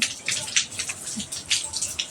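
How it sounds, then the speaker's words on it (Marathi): Water is poured into a village-style fenugreek curry in a pan, giving a few splashy gushes in short bursts, close and fairly loud. "चवीनुसार मीठ टाकल्याच्या नंतर थोडं पाणी टाकून घ्या"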